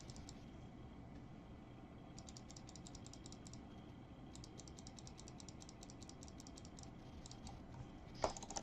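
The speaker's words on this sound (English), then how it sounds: "Enjoy clicking." Rapid clicking from a player fighting a boss in the game Basilisk 2000, fast bursts of crisp clicks in several runs over a low background hum, fairly quiet and steady, with no talking.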